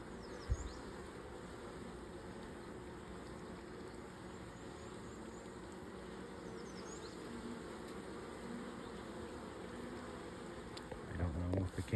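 Honeybees around farm hives make a steady, dense buzzing hum throughout, faint and continuous with a low background drone and a few light bumps near the end.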